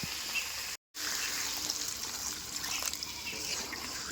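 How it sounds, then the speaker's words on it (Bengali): Water trickles and pours into a pot of meat being braised over a medium flame in a village-style kitchen, a steady, soft liquid stream with a brief gap near the start and no talking. "উনুনের আঁচটা মাঝারি রেখে ভালো মতো মাংসটা কষায় নিচ্ছি এবারে জল দিয়ে দেবো"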